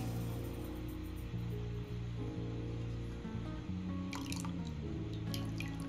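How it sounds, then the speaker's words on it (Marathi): Vinegar and water mixture dripping slowly into hot milk in a pot, a run of small liquid drips and splashes over a steady low hum, fairly close, with no talking. "विनेगर आणि पाण्याचं जे मिश्रण तयार केलं आहे ते हळूहळू करून ऍड करायचं आहे"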